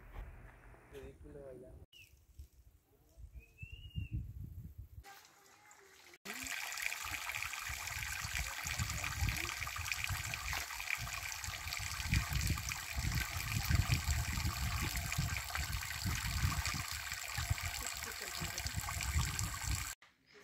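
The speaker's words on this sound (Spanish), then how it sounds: "en el segundo manantial, para que escucharan el sonido del agua que cae." Water falls at a mountain spring near San Francisco Huazalingo, Hidalgo. After a few quieter seconds with faint activity, a steady, close rushing splash sets in and continues evenly to the end.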